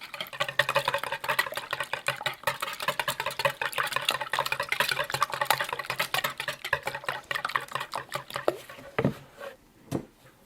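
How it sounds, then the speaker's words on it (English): A dozen eggs being whisked in a bowl while making a chicken and waffles casserole, a fast steady rattling of the whisk against the bowl that runs for several seconds, then slows to a few separate knocks near the end. "Now I'm going to take 12 eggs. That's a dozen. And I'm going to whisk them, breaking up the yolks."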